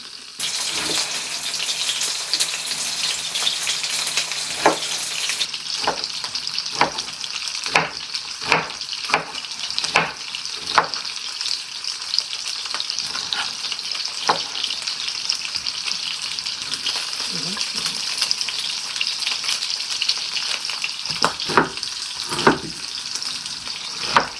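Pork pieces frying in a pan as the fat renders, a steady hiss of sizzling fat with scattered sharp pops and crackles, plus some stirring and clattering, close and fairly loud, with no talking.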